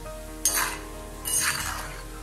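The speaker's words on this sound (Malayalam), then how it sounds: "ഇനി അതിലേക്ക് ഒരു 3 തണ്ട് കറിവേപ്പിലയും കൂടെ ചേർത്ത് നന്നായിട്ട് തന്നെ അങ്ങ് ഇളക്കി കൊടുക്കാം" A spoon scrapes and stirs through tuna fish pickle with curry leaves in a pan, two distinct brushing strokes over a steady low hum, close by.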